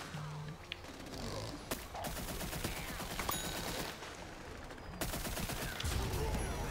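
Bursts of gunfire aimed at the player in a Plants video game, rapid rattling shots coming in clusters over steady game ambience.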